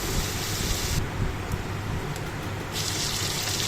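Chopped onions and tempering spices with a bay leaf fry in hot oil in a pan for a rohu fish curry, making a dense, continuous close sizzle with a brief dip in the hiss partway through.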